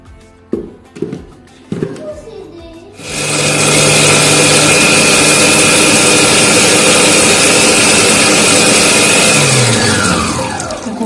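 A Mr Cuisine food processor mixing harira runs at speed 6, starting after a few clicks and clunks and then whirring loudly and steadily for several seconds before winding down.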